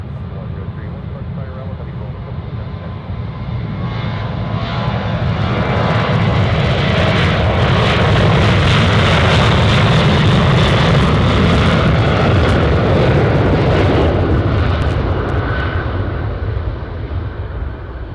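A UPS cargo plane takes off from runway 15 at Anchorage airport, its loud engine roar swelling steadily, holding at full strength, then easing slightly as it climbs away.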